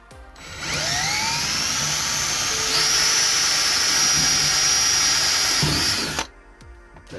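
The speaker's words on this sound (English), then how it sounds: "we're just gonna start drilling holes" Power drill bores a hole for a boat portlight, a steady high whine running for several seconds, close and loud, then cutting off abruptly.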